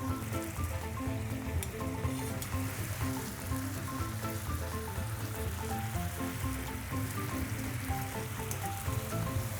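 Steak sauce reducing in a hot pan, giving a steady dense sizzle and bubbling crackle that stays close and even throughout.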